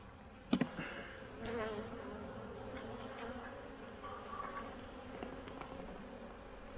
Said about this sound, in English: The bees are getting kind of aggressive right in here